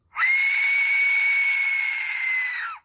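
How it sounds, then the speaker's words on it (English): A screechy, piercing whistle resembling an Aztec death whistle sounds as one sustained shrill tone, loud and alone, starting abruptly and ending with a slight falling pitch. "Have you guys heard the Aztec death whistle? Yes. That's kind of what it sounds like."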